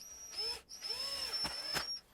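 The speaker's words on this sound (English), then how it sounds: "So I'm going to go ahead and drill a hole." A power drill bores a hole in a recording-studio wall so acoustic panels can be hung. It gives short, quiet whining bursts with a brief pause between them.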